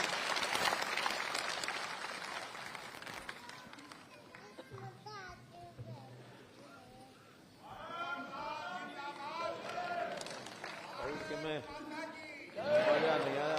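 A crowd in Sonipat applauds at a public event welcoming Chief Minister Manohar Lal, a burst of dense clapping at the start that fades into voices and children's chatter.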